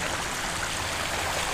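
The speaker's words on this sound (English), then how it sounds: "my pedals are going under the water" Steady broadband rushing and splashing of a commuter bicycle pushing through deep flood water on a very wet day, pedals dipping under the surface, continuous and close with no talking.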